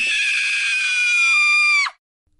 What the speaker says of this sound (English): what a frightful noise. That scream was so loud